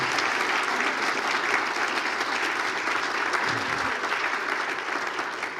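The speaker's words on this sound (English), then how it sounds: "I just want to give the candidates a rousing hand of applause." An audience at a residents association federal all-candidates meeting gives the candidates a sustained round of applause, a dense even roar of clapping from a room full of people, somewhat distant.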